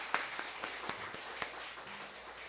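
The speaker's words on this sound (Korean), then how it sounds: "박수 한번 하겠습니다." A church congregation claps at a Sunday worship service, a few sparse, faint claps spaced out over a quiet room with a low hum beneath.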